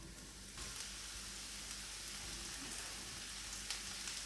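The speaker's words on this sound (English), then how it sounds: "Don't be alarmed if it sizzles because it will." Mushrooms and peppers sizzle in oil in a frying pan, a steady dense crackling hiss that starts abruptly and holds at an even level, close and alone without talk.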